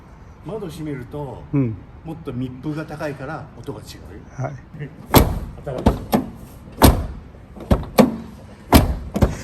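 Someone talks over a sports car whose door is closed with the window lowered, followed by a string of loud, solid door thuds and slams, some close together.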